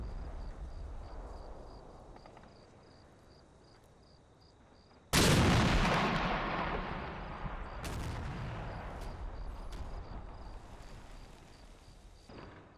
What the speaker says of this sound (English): we fire a couple of shots to ward them off